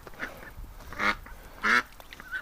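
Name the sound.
duck quacking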